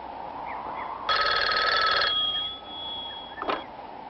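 A telephone bell rings during a call-back line check, one loud burst of ringing lasting about a second. A faint lingering tone and a short sharp click follow.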